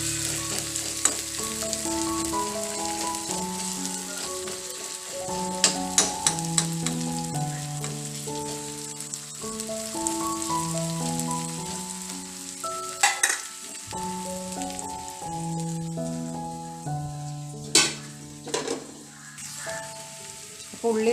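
Onions frying in oil until brown for chicken biryani, a continuous crackling sizzle with occasional stirring clatter, heard under background music.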